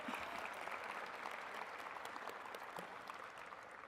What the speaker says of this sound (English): Can we give a big round of applause to yourself one more time?